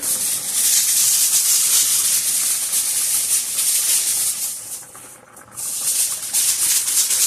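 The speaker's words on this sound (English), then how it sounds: "So as you can see, this is at like a rapid boil" A pot of water at a rapid boil on a stovetop gives off a steady, dense bubbling hiss and patter that dips briefly before surging back.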